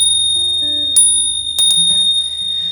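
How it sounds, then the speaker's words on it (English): Compact premium bicycle bell rung a few times close up, bright metallic pings with a long high ringing sustain, alone with faint handling noise. "they make what they call the compact, which is a smaller bell,"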